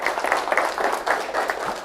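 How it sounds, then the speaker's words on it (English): Brief applause from an audience at a university extension meeting, many hands clapping in a short burst with uneven rhythm at moderate loudness. "we need to give HC a round of applause."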